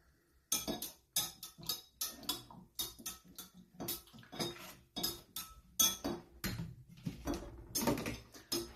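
A spoon scrapes and clinks through a seed cracker mixture in a bowl, a steady run of close, sharp strokes with short pauses between them and no talking.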